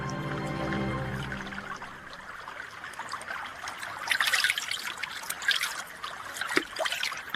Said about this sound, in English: There was water, a stream glinting in the sunshine.